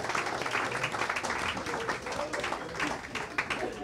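An audience at a rock'n'roll evening gives a round of applause for the hosts, Howie and Matt: a fairly soft, continuous wash of many hands clapping, with some crowd murmur mixed in.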